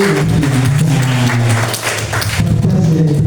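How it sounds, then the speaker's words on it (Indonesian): A group applauds for Andy with loud, sustained clapping that fills the room throughout, dipping briefly before swelling again. "tepuk tangan buat Andy"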